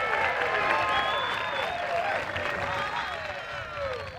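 A crowd at a disc golf charity tournament in Waco applauds a player's final shot, with steady clapping heard at a moderate distance, mixed with cheers and overlapping voices.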